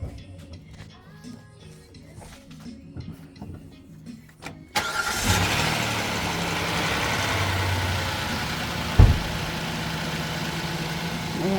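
After a car's oil filter and oil have been changed, a few quiet clicks come first, then the engine cranks and catches. It settles into a loud, steady idle that is close by, with one brief knock partway through.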